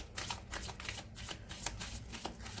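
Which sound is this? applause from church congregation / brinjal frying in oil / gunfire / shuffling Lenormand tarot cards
shuffling Lenormand tarot cards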